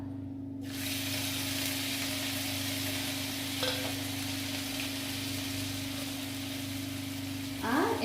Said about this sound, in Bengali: গরম তেলের মধ্যে দিয়ে দেবো একটু সর্ষে, কারি পাতা।